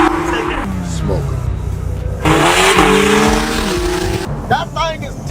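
Loud, tuned and built supercar engine revving hard with rising and falling pitch sweeps, a deep rumble throughout and a brief lull near the end.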